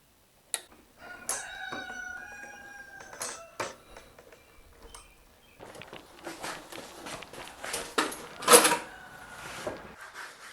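Chickens cluck and a rooster crows amid shuffling footsteps and rustling, with a louder burst of clucking and flapping near the end.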